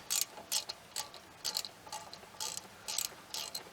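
A hand ratchet clicks steadily while tightening bolts on the front brakes of a BMW 1 Series, giving regular close, crisp bursts of rapid ticking, about ten strokes with no talk.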